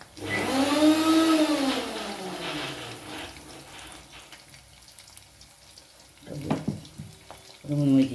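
Banana flower bajji batter fries in hot oil with a steady sizzling hiss, starting loud and tapering, with a voice over the first seconds and brief clatters near the end.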